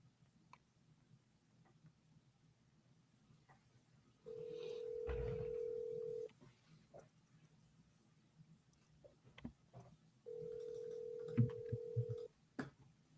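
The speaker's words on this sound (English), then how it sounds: "so let's call him now" An outgoing telephone call ringing out, two long steady electronic ring tones separated by a silent pause, faint with light clicking and tapping around them and no talking.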